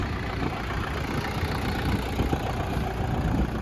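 A small SD 504 Lomon tractor with a 40-horsepower engine idles close by with a steady, continuous rumble and slight knock. The level stays even throughout, with no speech over it.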